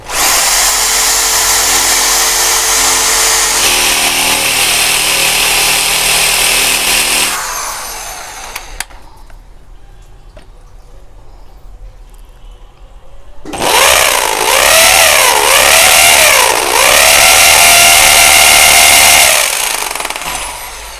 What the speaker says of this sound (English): Now I will show you how to drill by this drill machine on the wall.